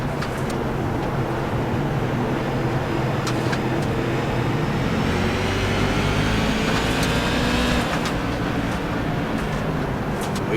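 CRA modified race cars roaring together at a restart at Thompson Speedway, a dense, steady engine drone with rising pitch as the pack accelerates, loud and continuous throughout.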